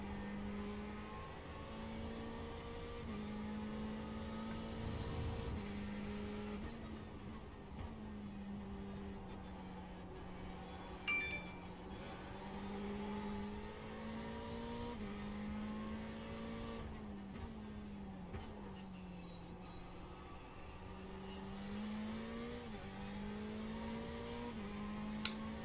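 A race car engine in a sim racing game holds a steady high drone, climbing in pitch through repeated gear shifts at near-constant volume across the stretch.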